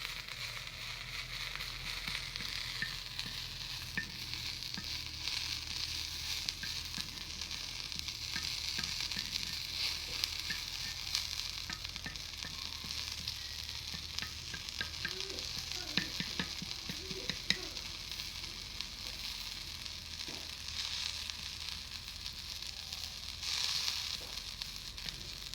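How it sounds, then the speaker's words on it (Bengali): Boroi frying and being stirred in a kadai, a steady close sizzle with scraping stir strokes running throughout, no talk. "ভালো করে ভাজবো, ওখান দিয়ে একটু মিক্স করবো, মিক্স করে ভাজবো"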